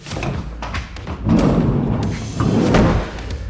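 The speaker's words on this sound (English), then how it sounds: "I'm gonna shut the door again." A few heavy thuds and slams ring out close by as a Ford Transit Connect van door is shut, with some clattering between them and no talking.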